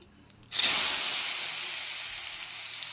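Potatoes drop into hot oil and burst into a loud, bright sizzle that starts suddenly and holds steady, slowly easing, with no voices over it.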